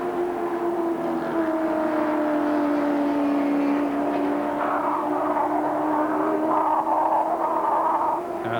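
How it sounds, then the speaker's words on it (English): Big BTCC saloon cars race at Silverstone in 1987 at around 140 mph, producing a sustained engine drone that holds a fairly steady pitch, heard at a moderate distance. "It's about 140 miles an hour in these big saloons."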